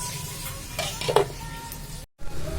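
Onion, potato and garlic fry in a pan as the base for kabuli chana, with a steady close sizzle and a few brief stirring scrapes partway through, then a short silent gap before the frying resumes.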